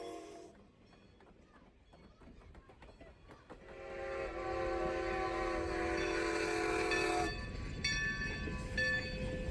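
Strasburg 90, a 1924 Baldwin decapod steam locomotive built for the Great Western Railroad, sounds a sustained steam whistle over the steady rumble of the moving train, loud and close for several seconds after a quieter opening.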